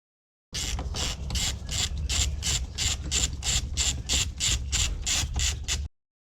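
A ratchet loosening a 24mm nut on a Ford Transit steering wheel: a fast, even run of about fifteen clicking pawl strokes, close and fairly quiet, ending abruptly.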